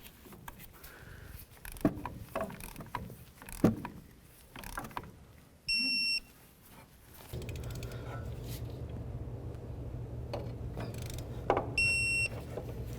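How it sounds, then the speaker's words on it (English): Torque wrench tightening steering rack bolts to spec on a 2005–2015 Toyota Tacoma: scattered close ratcheting clicks, two short high electronic beeps signalling target torque, and a low steady hum in the second half. "Now we're just going to torque these down to 26 foot-pounds."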